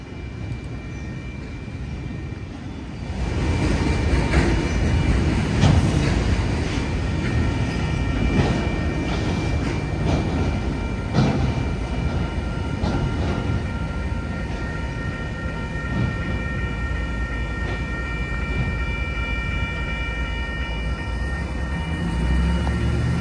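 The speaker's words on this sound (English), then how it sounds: "I caught it just in time for the freight train." A loud, continuous rumble of a freight train rolling past in downtown Pine Bluff, Arkansas, with rhythmic clacking and a broad roar that holds steady throughout.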